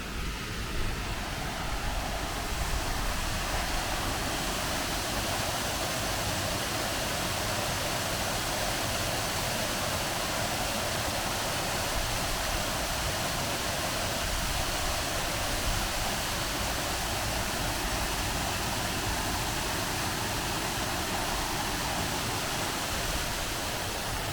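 A steady rush of flowing water from a stream in a wooded valley in North Wales, broadband and continuous at even loudness for the whole stretch, with no talk over it.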